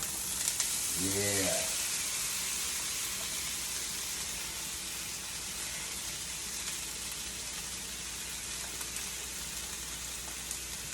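Vegetables tossed into a preheated pan set off a steady, hissing sizzle that carries on evenly throughout, with a brief spoken word near the start.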